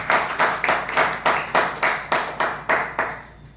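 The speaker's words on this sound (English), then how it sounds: "With a big round of applause" A crowd at a Toastmasters meeting claps in a steady burst of applause, roughly eight even pulses of hand claps that fade out at the end.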